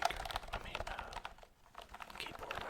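Typing on a Yuboti keyboard, a brisk run of close, crisp key clicks with a short pause in the middle, quiet and intimate, with faint speech nearby.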